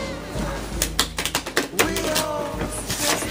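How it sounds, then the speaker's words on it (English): Quick run of crisp, snapping card riffles, a fluttering burst of clicks up close, with some talking around it. "I'm gonna shuffle these cards."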